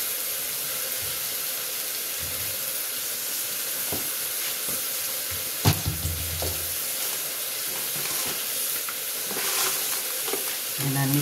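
Green chillies fry with a spoonful of chilli powder in a pan, producing a continuous bright sizzle with occasional scrapes and a low thud of stirring, close and even, without speech.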